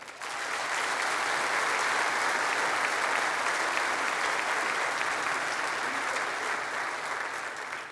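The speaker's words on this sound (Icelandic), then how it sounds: "Við skulum klappa fyrir þeim." Sustained applause from a concert hall audience at Eldborg for a band and a brass ensemble, a dense, even wash of clapping that holds steady for several seconds before easing slightly at the end.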